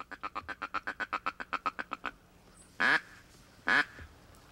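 Black ducks on a winter hunt, a rapid run of about fifteen evenly spaced quacks from a nearby duck, then two louder, longer drawn-out calls a second apart, with no talking.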